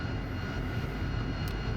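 An AV-8B Harrier jet engine in the DCS flight simulator spooling to takeoff power, a loud, steady, dense roar that holds constant throughout with no voices.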